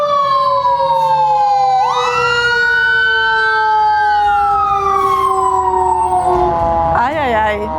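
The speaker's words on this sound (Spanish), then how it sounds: "Viene con la sirena y todo puesto." A fire engine's wailing siren rises and falls loudly and continuously at close range, heard on a night out with a volunteer fire brigade in Chile.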